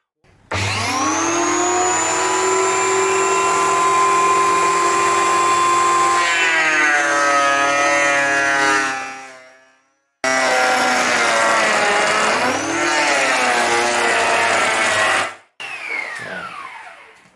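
A power drill spins a length of wood being turned into a custom 14 mm dowel with chisels, a loud steady whine that holds, then drops in pitch as the tool bites, cuts out briefly and restarts for a second run.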